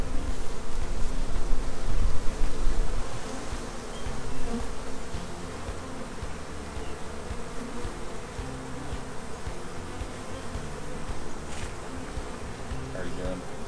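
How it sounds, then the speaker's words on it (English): Honey bees buzz densely around beehives outdoors, a continuous loud swarm hum close by. It swells early on, then holds steady throughout, with no talking. "There's a bee climbing on your shirt, just so you know."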